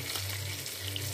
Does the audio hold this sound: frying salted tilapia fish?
yes